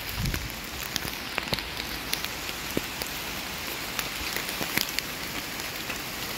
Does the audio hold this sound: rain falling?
yes